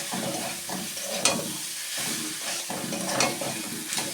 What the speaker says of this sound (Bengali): চিংড়ি মাছটা ভাজা হয়ে গেছে, এবার আমি বাঁধাকপিটা যেটা রান্না করে রাখলাম এটা ঢেলে দেবো।